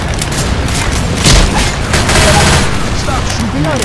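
Gunfire in the Left 4 Dead 2 zombie shooter, dense overlapping shots and booms rolling continuously, loud and close, with voices shouting over the battle.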